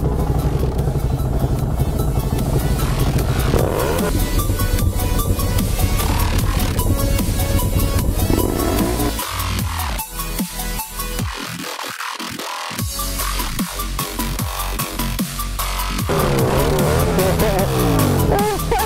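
A 2016 KTM 690 SMC R supermoto's single-cylinder engine revs and blips repeatedly, loud and close, with rising and falling pitch, a brief lull midway, then more throttle.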